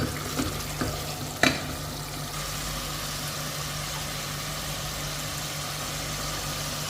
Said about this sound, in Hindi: मसाले को अच्छे से भूनना है हमें।